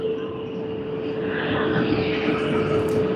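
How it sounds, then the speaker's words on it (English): Jetstar Airbus A321 arriving from Denpasar at Sydney Airport, its jet engines giving a continuous loud roar with a steady whine on top, the roar swelling a little over the few seconds. "And this is the service from Denpasar, Jetstar's Airbus A321."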